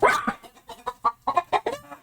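Chickens cluck close by in a quick, uneven run of about a dozen short, sharp clucks, one after another, with no voices.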